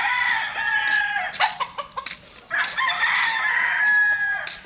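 Several gamefowl roosters of the Butcher bloodline crow and cluck at feeding time on a farm at Mount Banahaw, long close crows overlapping with bursts of clucking and scuffling between calls.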